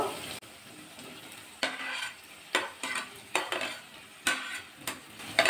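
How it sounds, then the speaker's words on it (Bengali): Okra and potatoes are stirred into hot spiced oil with a green chili, giving a steady close sizzle broken by repeated scraping strokes of a spoon against the pan. "ভালো করে মিশিয়ে নেব মশলার সাথে ভেন্ডি আলুটা"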